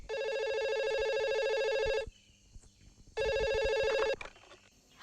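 A telephone ringing on an outgoing call, two long ring bursts of about two seconds each with a gap between, fairly loud and close, with no talk.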